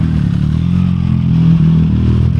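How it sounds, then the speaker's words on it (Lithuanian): A motorcycle engine of unclear make, or a Honda, revs loudly and steadily at close range in a biker bar set in a cave, with a deep sustained rumble and no talk over it. "Neaiškios kilmės motociklas ir Honda"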